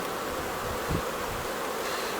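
Honeybees drone steadily around a Chmara III queen isolation cage during a spring queen release, a dense, continuous buzz close by with no talking.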